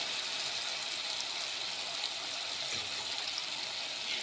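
Water poured into spice paste in a pan while cooking a Kathiyawadi-style sev tameta shaak, a steady trickling, running-water rush, close and continuous throughout without pause.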